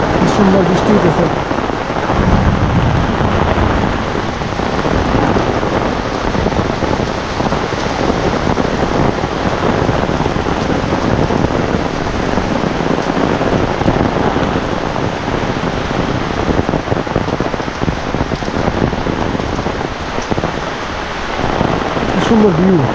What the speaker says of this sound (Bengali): সুন্দর বৃষ্টি হইতেছে।